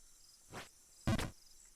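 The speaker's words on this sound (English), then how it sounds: "the kind of cricket noises in this area are kind of rude" Two short cricket chirp bursts sound in the video game Jump King against near silence, the second one louder and crisper, with no talking.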